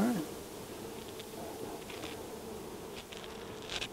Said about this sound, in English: we have a hive that's just been installed